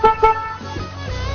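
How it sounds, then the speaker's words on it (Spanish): A car horn honks twice in short blasts in street traffic outside an Olimpia football club's Libertadores derby, followed by a low rumble of passing traffic. "Está tocando bocina."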